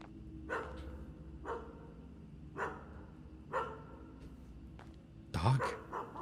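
A dog barks repeatedly in the horror video game Graveyard Shift: single muffled barks spaced about a second apart, then a louder, sharper burst near the end, all at a distance over a low ambient hum.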